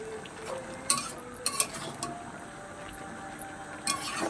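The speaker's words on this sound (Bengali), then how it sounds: "সবজিটাকে ভালো করে নাড়াচাড়া দিতে হবে।" Vegetables and prawns are stirred in a pan, giving a soft sizzle under a few sharp clinks of a utensil against metal. The clinks are spaced out and close, with no voice.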